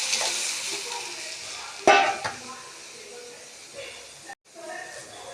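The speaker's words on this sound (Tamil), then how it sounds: "இப்போது நம்ம கரைச்சி வச்சுருக்கிற தக்காளி, புளி கரைசலை இதில் ஊற்றிடுறோம்." Tomato-tamarind water for onion rasam is poured into a hot pan, setting off a sudden loud sizzle that fades into a softer hiss and bubbling.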